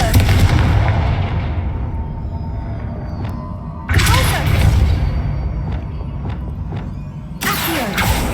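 Confringo fire spell in Hogwarts Legacy produces loud booming blasts, one at the start and another about midway, then a third near the end, with crackling and rumbling decay between them in a noisy game scene.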